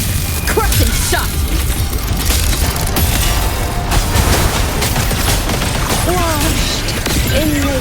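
Crushing Shot attack in the Wuthering Waves game: a dense, loud barrage of booming impacts and crashing effects that fills the whole stretch, with brief voice fragments mixed in.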